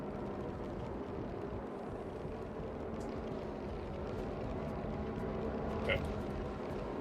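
Gladius fighter engines in the space game Star Citizen give off a steady low hum and whine during combat, with a brief higher tone near the end, while players talk over it.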